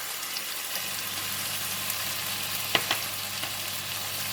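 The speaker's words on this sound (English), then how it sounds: "I'm going to stir fry the beef." Beef and pepper stir-frying in a pan, a steady close sizzle with a couple of brief clacks from stirring partway through.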